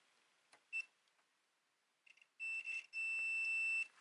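A multimeter gives continuity-test beeps while probing capacitors on a Sony PlayStation 3 Slim circuit board, first a brief chirp, then two sustained steady tones close by in a quiet room.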